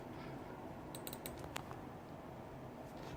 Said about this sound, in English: Logitech gaming keyboard.